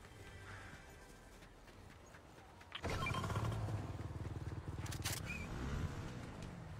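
A motorbike in Fortnite starts up partway through, its engine revving loud and close after a quiet stretch of game ambience.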